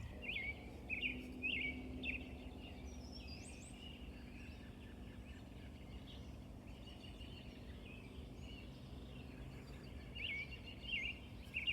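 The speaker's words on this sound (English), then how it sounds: "I just want to let you listen to the birds." Birds chirping and calling in a small wooded patch on a farm in the early morning, faint and distant, with repeated short tweets over a quiet outdoor background.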